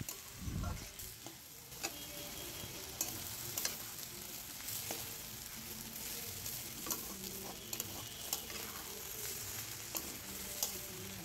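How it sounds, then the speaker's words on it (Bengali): Shyama rice being stirred and lightly fried in a pan for polao, a steady scraping stir over a continuous close sizzle with occasional louder clinks throughout, no talking. "চালটা দেওয়ার পর ভালো করে নেড়েচেড়ে হালকা একটু ভেজে নিতে হবে।"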